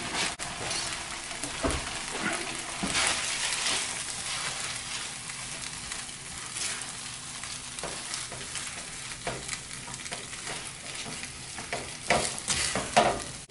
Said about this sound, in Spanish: Le voy a agregar queso y vamos a revolver bien.